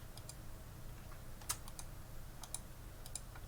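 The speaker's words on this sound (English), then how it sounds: "Because I'm typing" Quiet, sparse keystrokes on a computer keyboard, a few soft clicks with brief pauses, heard alone over a low background hum.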